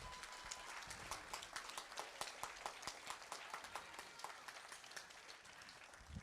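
Audience members at a school promotion ceremony clap, with individual hand claps standing out distinctly over a thinner bed of general applause that holds steady for several seconds.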